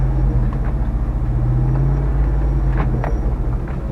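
A Jeep Wrangler JK in first gear on a sandy downhill gives a loud, close, deep engine drone with a throbbing low hum under steady throttle, plus faint knocks and rattles from the drivetrain.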